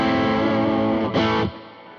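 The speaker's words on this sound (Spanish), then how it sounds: "lo bueno que tiene también el BB Preamp para el bajo, también la distorsión que tiene" Bass guitar run through a BB Preamp distortion pedal, a thick sustained distorted note that swells briefly, then cuts off and leaves a fading tail, played alone and close.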